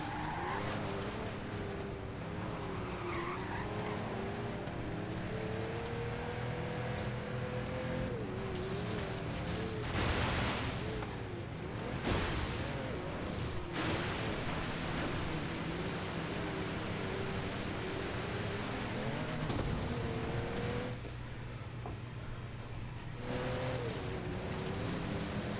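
Race cars in the Forza Horizon 3 video game, with a continuous engine drone and rising and falling revs, broken by intermittent tire skids, loud and unbroken throughout with no voices.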